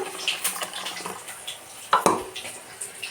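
Water poured into a bowl while making mustard hilsa, with splashing and trickling plus a few clinks of vessels, close and moderately loud.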